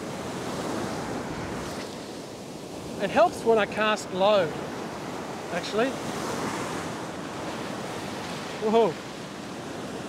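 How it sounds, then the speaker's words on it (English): Powerful waves dump onto a steep beach shore during surf fishing, a steady roar of breaking water and wash running throughout, with someone speaking briefly over the surf. "There's quite a shore dump just here. These waves are coming up with quite a lot of power."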